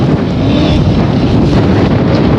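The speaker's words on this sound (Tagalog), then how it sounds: "Hold tight, it's windy." Strong wind roars across the microphone on a speed boat ride at Bangsaen Beach. A loud, constant rumbling buffet mixes with rushing water, and no voices are heard.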